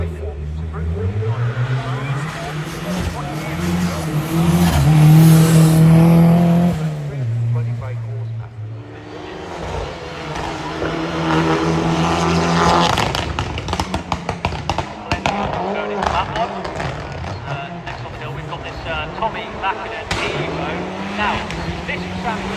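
A turbocharged rear-wheel-drive Mitsubishi Group A rally car races past at a rally event, its engine revving up and falling away with gear changes and pops, loud and nearby, while a commentator talks over much of it.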